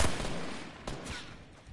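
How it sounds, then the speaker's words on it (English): Gunfire in Fortnite: a sharp shot at the start fading out, then a second crack just under a second later, fairly faint and distant, with no talking. "Someone else is shooting."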